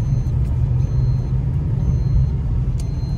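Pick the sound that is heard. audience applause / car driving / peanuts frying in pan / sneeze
car driving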